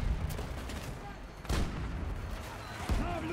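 Heavy blasts from a grenade going off in the video game Battlefield 2042, three loud broadband bursts spaced about 1.5 seconds apart over a constant rumble of battle noise.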